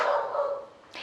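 Dogs at neighbouring houses in Rocinha give a short, close bark that trails off, and a second bark begins right after, with no talk.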